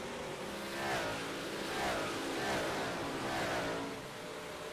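Dirt 358 modified race cars running a 35-lap feature in iRacing, engines droning and swelling in pitch as cars pass, a steady mid-distance roar rising and falling several times.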